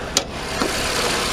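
A 2018 Nissan Sentra rental car's 1.8-liter four-cylinder engine runs at idle under the open hood, a close, steady hum broken by one brief sharp click near the start.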